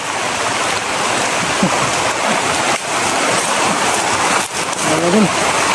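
Heavy rain pouring outdoors in the mountains, a loud, dense, continuous hiss with no breaks, and a voice briefly heard over it near the end.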